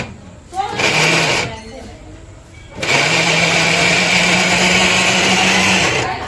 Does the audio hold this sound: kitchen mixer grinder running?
yes